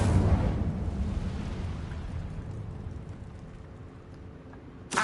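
An Incendio fire spell cast in Hogwarts Legacy bursts out with a loud fiery whoosh at the start, then decays into a fading crackling rumble, with a sharp little pop at the very end.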